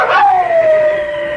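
A single loud dog howl sound effect in a 1967 Toronto radio ad rises briefly, then glides downward in a long drawn-out wail, heard close and alone.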